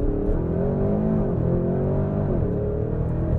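A 2024 Porsche Cayenne Turbo GT launching hard from standstill, its engine roaring loudly with a rising pitch and a brief dip partway through as it shifts gear, heard from inside the cabin.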